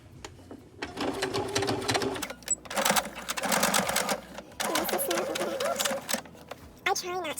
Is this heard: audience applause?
no